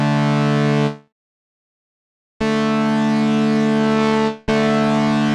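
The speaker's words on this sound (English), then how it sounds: "So you can hear there's a little bit of a distortion." Synth chord run through Ableton Live 11's Chorus-Ensemble effect with the warmth control adding analog-style crunch and slight distortion, a buzzy sustained tone that cuts to silence, then returns in two loud, even bursts.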